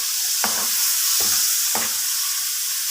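Kusa gobhi frying in a pan with a constant loud sizzle, while a spoon stirs in three short scraping strokes spaced about a second apart.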